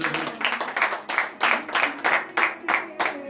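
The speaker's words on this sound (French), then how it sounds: "Donnez encore l'acclamation à notre Seigneur Jésus" Worshippers at a morning prayer meeting in Benin clap for the Lord Jesus, a steady rhythmic beat of unison hand claps, close and fairly loud, with no speech over it.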